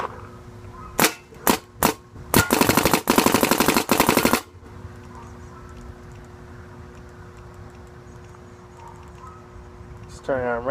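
A tuned Planet Eclipse GSL paintball marker fires three single shots and then a fast burst of rapid shots, loud and sharp, followed by quiet room noise and a brief voice at the end.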